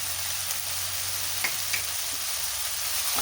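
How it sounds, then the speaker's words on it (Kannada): Vegetables for a vegetable sandwich sauté in a pan with turmeric, garam masala and chilli powder, giving a steady, close frying sizzle with a few faint stirring taps and no talking. "ಎಲ್ಲ ಹಾಕಿದ್ರೆ ಬಾಡಿಸೋಣ"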